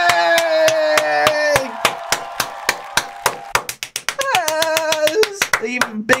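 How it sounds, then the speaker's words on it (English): Hands clap sharply and repeatedly over loud music with a singer, about a dozen crisp slaps in quick succession at a reaction to a Eurovision 2024 performance, rising to a final burst near the end. "second big clap"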